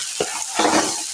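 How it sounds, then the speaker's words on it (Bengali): A pan of potatoes frying in oil sizzles close by while they are stirred, giving two or three scraping bursts over the steady crackle. "এইভাবে নাড়াচাড়া করে নেব, পুরো আলুর জলটাকে একবারে শুকিয়ে নেব।"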